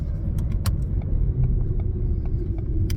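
A new Ford Fiesta is driven on the road. Loud, steady low engine and tyre rumble fills the cabin, with a few faint clicks and rattles on top.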